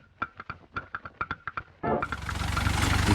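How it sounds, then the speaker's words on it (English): A tractor competing as a UK rig at a 4x4 off-road event: a run of rhythmic thumping pulses, then the engine bursts in loudly and its roar builds steadily and close. "can you bring a tractor to a 4x4 Olympic event?"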